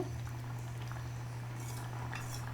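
A coconut milk mixture for mutton pulao bubbling in a pot at a steady simmer, soft gurgles and small pops over a constant low hum, no voices.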